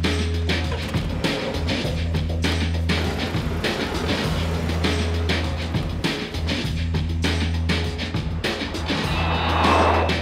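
Jaguar XE P250 saloon cruising on an open road, a steady engine drone with continuous road and wind noise, close and even throughout.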